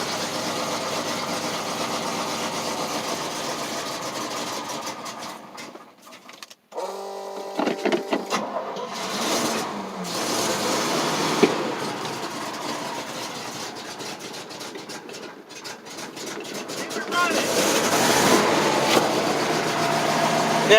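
A 1988 GMC 6000 box truck with a 454 V8 starts cold and settles into a steady, fairly loud idle with a rough mechanical rumble, briefly dipping before running on.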